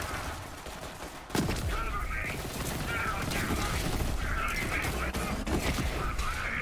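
Plasma coil weapon firing in Borderlands 3, a sudden loud burst followed by sustained rapid crackling fire with chirpy electric tones over busy combat noise.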